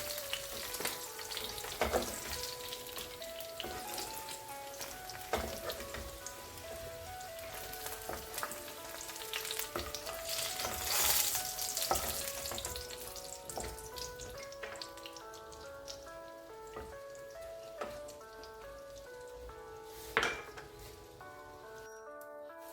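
Rice flour frying in ghee for banana burfi, a soft steady sizzle with occasional stirring scrapes, heard under melodic background music.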